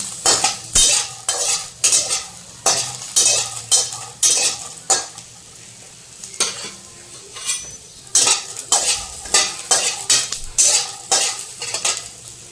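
Pavta beans dry-roast in a pan, a spoon scraping and stirring in quick bursts that rattle the beans against the metal, with brief pauses between rounds.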